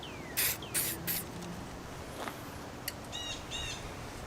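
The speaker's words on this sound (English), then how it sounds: "I would just spray it on the rag just a little bit." WD-40 is sprayed onto a rag in three short hissing bursts near the start, followed by quiet rustling, with birds chirping faintly in the background.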